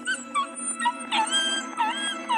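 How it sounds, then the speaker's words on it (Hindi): Several dogs howling and crying close by, overlapping wavering whines and rising-falling howls in quick succession over a steady low hum, no speech. "तभी अचानक से कुत्तों के रोने की आवाजें आने लगी"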